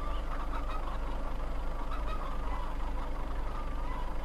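A dense flock of chickens in the video game Farming Simulator 2015 clucks and chatters continuously over a steady low hum, a thick, even chorus with no pauses.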